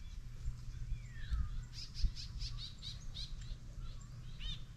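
Two crows call angrily at a bird of prey that has just caught a rat, a run of repeated harsh calls at moderate distance over low outdoor rumble, with a few other chirps mixed in.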